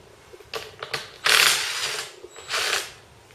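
A ratchet wrench with a 14mm socket working the cap bolts off a swing axle gearbox, giving short bursts of clicking and a couple of longer ratcheting runs, close and fairly quiet.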